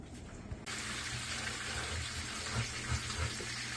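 Leaves fry in a pan of drippings while enchiladas are being made. A steady, close sizzle runs throughout, starting more quietly and then jumping to a full, even hiss.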